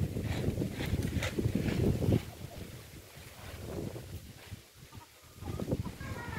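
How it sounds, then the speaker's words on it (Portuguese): Wind blowing across an open rural area with gusty rumble and microphone buffeting, loud at first and easing after about two seconds, with faint rustling throughout. "Ainda tá ventando."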